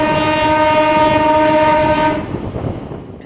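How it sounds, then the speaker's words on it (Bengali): The 68123 Kharagpur–Tatanagar MEMU passenger train sounds a loud, sustained horn blast for about two seconds over its running rumble. The horn then cuts off, leaving a fading rolling noise. "68123 খড়গপুর টাটানগর মেমো।"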